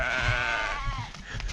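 A sheep bleats loudly and close by while being led on a farm, one long wavering cry that tails off, followed by scuffling and shuffling movement sounds.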